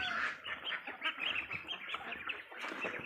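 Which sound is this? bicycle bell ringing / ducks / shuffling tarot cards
ducks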